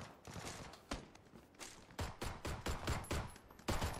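Gunfire in PUBG at a military base, bursts of shots echoing in an uneven rhythm, some close and loud, others further off, with no talking.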